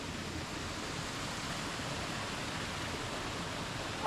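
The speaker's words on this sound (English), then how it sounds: "across the waterfall." Steady, even rush of falling water from a waterfall among big trees in woodland near Pattaya, a constant broadband roar filling the whole clip at moderate level with no voices.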